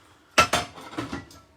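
A frying pan is handled in a home kitchen while a chicken noodle soup is cooked, giving several sharp metallic clanks and clatters in quick succession, close and fairly loud, then fading, with no talking.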